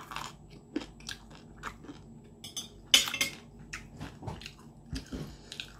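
Deep-fried chicken bones being eaten up close: a run of sharp, irregular crunches and bites with wet chewing in between, loud and dry, with no talk.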